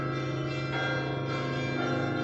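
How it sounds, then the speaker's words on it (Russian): Church bells ring on and on from a tower overhead, the ringing steady and sustained with dense layered tones throughout, fairly distant and alone with no talking. "Это колокола."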